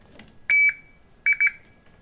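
A multimeter's continuity buzzer sounds in diode mode while a motorcycle CDI unit is tested, giving one longer beep and then two quick short beeps, clear and close, with no talking.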